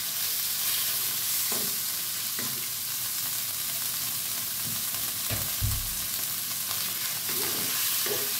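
Pork belly stir-fries in a pan, a soft steady sizzle punctuated by spatula scrapes and stirring knocks every second or so, close and fairly quiet with no talking.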